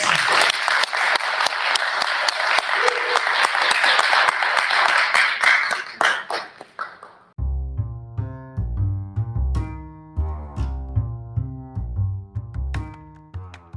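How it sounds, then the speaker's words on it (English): A crowd at a panel discussion applauds the panelists for about seven seconds, loud and dense, then the clapping ends abruptly and gives way to a melodic tune. "Can we do one more round of applause?"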